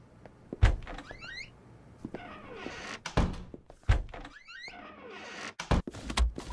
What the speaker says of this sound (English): And close the door